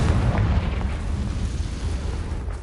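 A Confringo explosive spell from Hogwarts Legacy erupts as a heavy, rumbling boom at the start, then fades into a sustained low roar.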